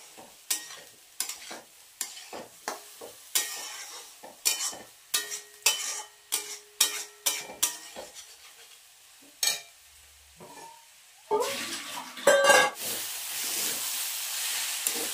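Food fries in a pan while a utensil stirs and scrapes it in quick repeated strokes, soft sizzling underneath, followed by a louder burst of hiss and clatter near the end.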